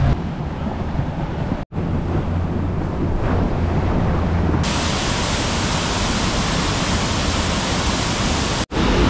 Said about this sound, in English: We've just arrived at the waterfall in the Grand River.